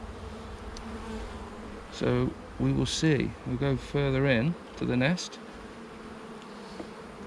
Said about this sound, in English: It surprised me because we've got a lot of bees.